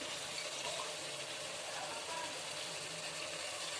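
Water poured from a glass into a pot of rice for chicken biryani makes a continuous, steady hissing gush, even in level and unbroken for several seconds, with no talking over it.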